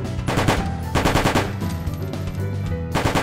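Rapid bursts of automatic gunfire from a weapon sprayed continuously in the video game Redie, loud and close, with short gaps between sustained volleys.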